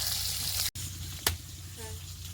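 Water poured into a pan of frying taro sets off a loud hissing sizzle that cuts out abruptly, then resumes with a sharp clack and a softer, bubbling sizzle.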